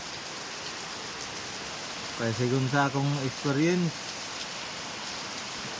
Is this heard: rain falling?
yes